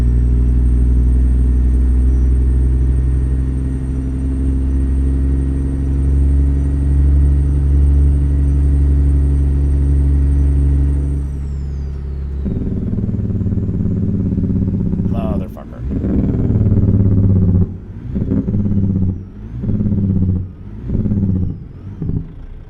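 A heavy-haul truck engine in American Truck Simulator, hauling a super heavy load, holds a loud, steady low drone. It then drops in pitch and breaks into uneven throttle surges and gear changes, with talk over it.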